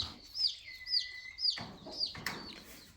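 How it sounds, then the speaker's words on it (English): Guinea fowl that have settled in and perch up high give a string of harsh, squeaky repeated calls, several sharp bursts in quick succession, fairly close and loud against a quiet background. "The guineas are doing really well."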